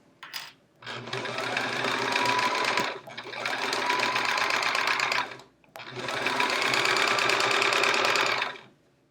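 Sewing machine stitching a quilt seam in three long runs of fast, steady mechanical whirring and needle clatter, close and loud, separated by brief pauses.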